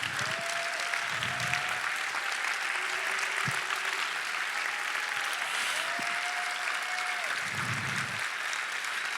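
An audience at a national member meeting applauds in a dense, sustained wash of clapping that stays steady and loud throughout. A few faint tonal sounds rise above it briefly.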